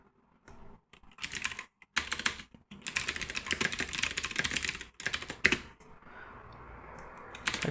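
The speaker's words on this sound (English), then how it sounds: "Typing." Bursts of rapid typing on a computer keyboard, close and crisp, with short pauses between runs of clattering keystrokes.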